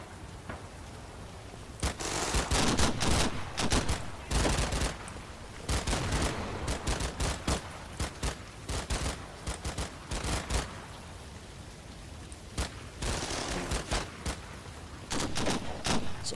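Sustained WWII-era gunfire from Combat Mission Final Blitzkrieg, with dense bursts of rifle and machine-gun fire crackling in irregular clusters, near and far, over a continuous battlefield hiss.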